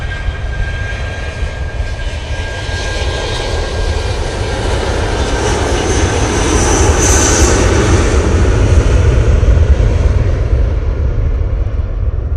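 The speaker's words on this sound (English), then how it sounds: "Aer Lingus A380 it's just crossed over" An Aer Lingus jet airliner heading back to Dublin passes overhead at Manchester Airport with a loud, sustained engine roar that builds toward the middle and holds steady, with no voices.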